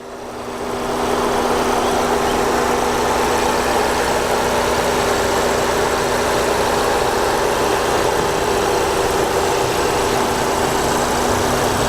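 A Volkswagen Golf R engine idles steadily up close, a loud constant rumble with a low hum that holds unchanged throughout.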